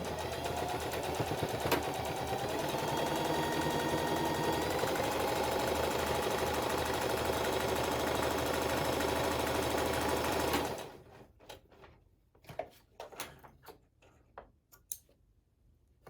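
A sewing machine stitches up the sides of a fabric pouch in a fast, steady mechanical whir for about ten seconds, then stops, leaving scattered clicks and fabric handling.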